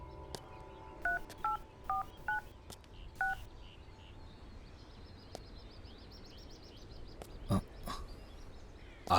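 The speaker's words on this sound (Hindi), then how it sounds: "फोन भी नहीं लग रहा है उसका।" Five short telephone keypad tones dial a number in quick succession, followed by quiet room ambience with faint distant animal calls and a few clicks, and the call never connects.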